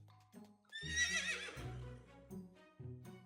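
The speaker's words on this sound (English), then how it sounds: "this is how a horse sounds" Horse neighing, a loud, close whinny with a bright shrill start that descends and wavers, followed by softer snorting calls, no talking.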